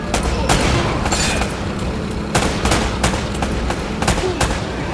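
Gunfire from a firefight in the video game Uncharted: Drake's Fortune, loud rapid volleys and bursts of shots crackling repeatedly over a dense battle din.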